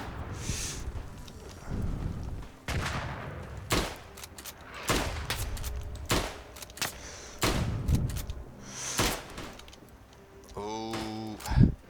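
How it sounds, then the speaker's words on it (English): A straight-pull rifle firing in the World War I shooter Tannenberg, single loud shots spaced a second or two apart, with distant battlefield gunfire between and a burst of other noise near the end. "The quick fire on this rifle so compensates for the pokey sights"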